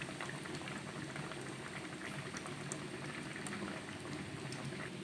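Potato donuts deep-frying in hot oil give a steady, dense sizzle and bubbling crackle that holds evenly throughout, close and continuous with no voices.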